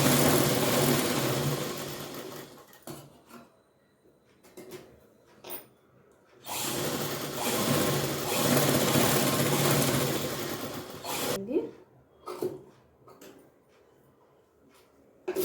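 A sewing machine stitches a five-year-old girl's frock made from household cloth, running in two long steady bursts separated by pauses filled with small handling clicks and knocks.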